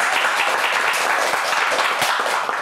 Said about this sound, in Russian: Он тоже заслужил, как и Сергей, ваши аплодисменты.